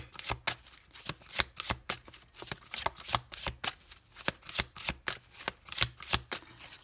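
A deck of tarot-style cards is shuffled briskly by hand, giving a close, loud, steady run of riffling flicks that repeat roughly every third of a second with no speech.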